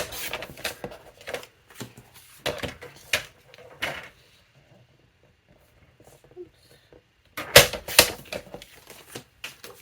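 Paper being cut for a 4x6 scrapbook album, heard as a string of crisp, close snips and slicing strokes in bursts, with a quiet pause in the middle before another loud cluster.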